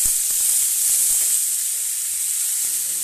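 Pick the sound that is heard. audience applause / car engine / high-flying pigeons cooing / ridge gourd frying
ridge gourd frying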